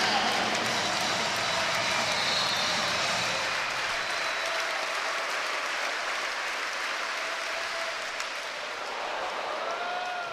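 A crowd at the Fieldhouse roars and applauds during a Wisconsin vs Michigan NCAA women's volleyball match, a dense sustained wash of cheering that slowly eases off.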